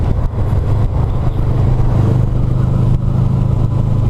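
A motorcycle engine revs hard past 6500 rpm, a loud, close, sustained rumbling roar with a strong low growl that barely wavers across the few seconds.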